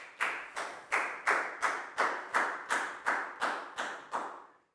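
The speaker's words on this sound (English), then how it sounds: "High five and a big round of applause for Pak Bung," Evenly spaced sharp claps in a classroom, about ten in steady rhythm, crisp and fairly close, stopping cleanly at the end.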